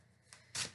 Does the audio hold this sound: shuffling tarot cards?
yes